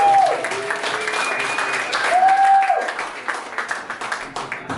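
Comedy club audience at Broadway Comedy Club applauding and cheering to welcome comedian Tom Hudson, steady clapping throughout with a few whoops over the top.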